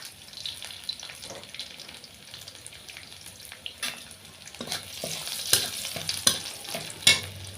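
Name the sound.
frying crushed garlic cloves in oil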